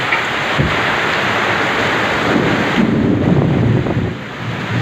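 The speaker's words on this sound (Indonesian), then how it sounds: "Ya Allah, hujan badai Nyong." Heavy tropical rainstorm roars under strong gusting wind buffeting the microphone, a loud continuous wash of noise.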